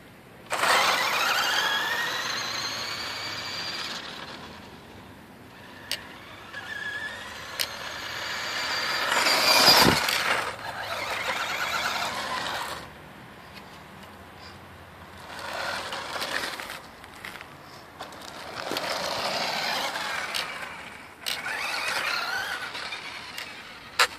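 The motor of a Maisto Tech Baja Beast RC truck runs at full throttle with a high, squealing electric whine. It comes in surging bursts, briefly drops out midway, then revs repeatedly, rising and falling.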